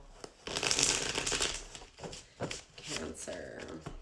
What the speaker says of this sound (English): Let me take one more shuffle.